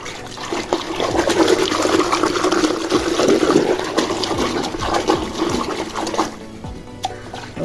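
Water is poured steadily over orchid roots to rinse away dirt, a continuous close splashing gush that runs for several seconds and then eases off near the end.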